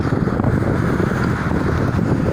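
Strong wind buffets the microphone outdoors beside a toll road construction site, a loud, steady roar of rumbling gusts throughout with no other clear sounds standing out.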